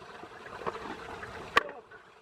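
Water rushes and trickles through the flushed cooling system of a Mercedes 508D/613D van radiator, a steady gurgling flow with one sharp splash partway through.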